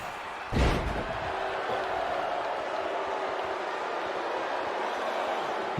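A heavy thudding slam from a neck breaker in the wrestling video game WWE 2K20 hits once, loud and close. A continuous arena crowd roar carries on underneath afterward.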